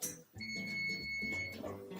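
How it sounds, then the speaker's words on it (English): A kitchen timer goes off while cookies bake, a steady high electronic beeping tone held for about a second amid a person talking. "So the timer's going off."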